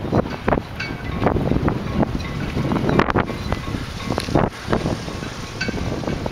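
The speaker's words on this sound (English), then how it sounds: "Sounds a lot windier than what it is." Wind storm on Salt Spring Island buffeting a sensitive microphone, a steady roaring rush broken by repeated heavy thumping gusts across the whole stretch, with no voices.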